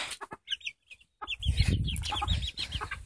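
A hen clucks close by in a series of short, quick, throaty calls, with a few sparse clucks first and then a busier run.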